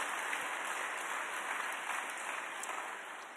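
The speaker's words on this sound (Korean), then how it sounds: "우리 교사들에게 박수 한번 하겠습니다" Church congregation at a Wednesday evening worship service applauds the Sunday school teachers, a soft, steady, distant patter of many hands.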